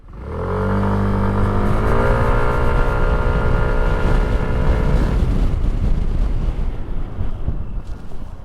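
A Kymco Dink R 150 scooter pulls away hard from a standstill. Its engine note climbs quickly, then holds a loud, steady roar as it gathers speed.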